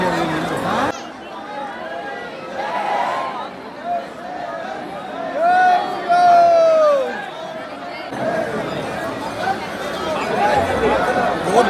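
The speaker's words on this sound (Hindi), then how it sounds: "भीड़ बहुत ज़्यादा है, काफ़ी लंबी लाइन लगी है।" A dense crowd waits in a long line at Mehndipur Balaji Temple, a loud, continuous murmur of many overlapping voices, with nearer people talking over the general hubbub.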